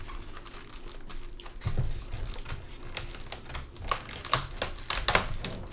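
Tape being peeled and torn off the cardboard box of a Sideshow Miles Morales Spider-Man Premium Format figure, a close run of sharp crackling rips and scratchy bursts with no talk.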